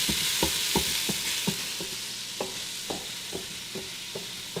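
Garlic and ginger frying in a pan for a lentil curry: a constant close sizzle broken by regular scraping knocks of a spoon stirring against the pan, with no voices.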